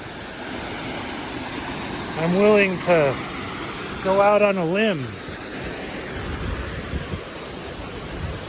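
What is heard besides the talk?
waterfall rushing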